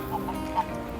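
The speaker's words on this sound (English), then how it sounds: "And our friends, the geese, are here, along with the carp in the moat." Geese give a few faint, brief honking calls beside a castle moat in Copenhagen, Denmark, heard over a steady low outdoor hum with no talking.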